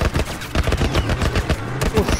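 Rapid bursts of automatic gunfire in The Last of Us Remastered on PS4, in the sewers, rattle loudly and continuously, with sharp repeated shots in quick succession and a low rumble underneath.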